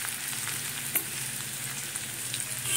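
Ground ginger and garlic paste sizzles steadily in a pan over low heat while being stirred, a dense close crackle with light scraping and one brief louder tap.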